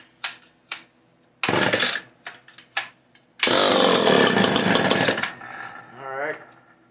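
A Homelite Super XL chainsaw, choked, gives a few short sputtering pulls and brief bursts, then catches and runs loud and rough for a couple of seconds before dying back to a quiet idle.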